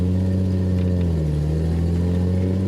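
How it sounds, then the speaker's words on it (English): A 1989 Mercedes 190E engine pulls steadily in first gear, a loud, even mid-pitched drone heard from inside the cabin with the windows down, its tone dipping slightly partway through. "Driving in normal first."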